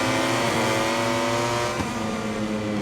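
A racing motorbike engine in MotoGP 22 drones loudly and steadily as it accelerates, the pitch climbing and dipping slightly with a brief shift change midway, close and continuous with no talk.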